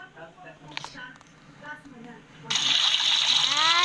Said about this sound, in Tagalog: So, mag-shower na ako.